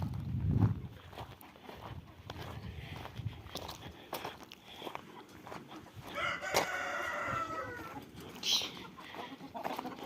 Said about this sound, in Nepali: यो चाहिँ जापानिज कुखुरा हो